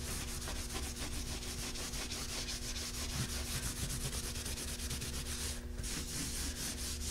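Dark wax is rubbed off the raised high spots of a textured, chalk-painted reptile-style finish, giving a steady, close scrubbing and rasping sound that continues without a break and with no speech.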